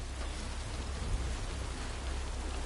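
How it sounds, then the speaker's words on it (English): Constant rain falls in Seattle in the game The Last of Us Part II, a steady broadband wash with a deep rumble underneath, even and close with no voices over it. "This must be Seattle because it never stops raining."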